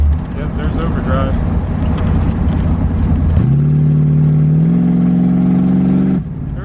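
A 1985 C4 Corvette running open headers roars loudly while driving, the engine note climbing and then stepping through a gear shift before dropping away at the end. Voices talk over it.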